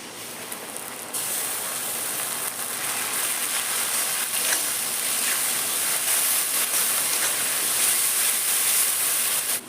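Onions frying for a jackfruit curry give off a steady, loud sizzling hiss from the pan, constant and broadband after the oil catches at the start, with no talking over it.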